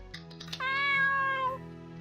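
A single drawn-out cat meow in a video game, clear and close, rising then tapering off, preceded by a few soft clicks.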